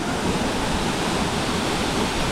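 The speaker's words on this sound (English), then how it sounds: "We're back at Horsetail Falls." Horsetail Falls in Oregon's Columbia River Gorge pours down in a constant, dense rush of falling water, heard close and loud with no pauses.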